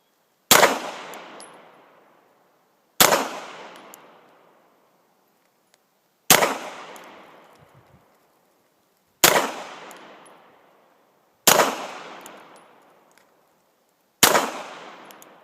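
Single handgun shots from a Glock 17 Gen 2 or Glock 19 Gen 3 at an outdoor shooting range, six sharp loud cracks spaced roughly three seconds apart, each followed by a short decaying echo, with no talking in between.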